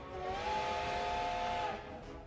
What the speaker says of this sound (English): The whistle blows again